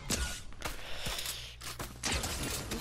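Fortnite Zero Builds gunfire, with several sharp distant shots cracking at irregular intervals over game ambience, fairly faint and without talk.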